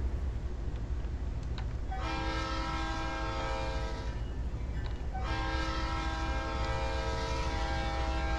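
Long freight train rolls past a level crossing in a train driving video game, with a steady rumble and clatter, while two sustained loud horn blasts sound in succession over it.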